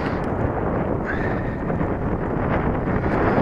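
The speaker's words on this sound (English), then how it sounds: "I think the wind's picking up" Strong wind buffets the microphone at an outdoor RC glider field, a loud, constant low rumble filling the whole stretch without a break.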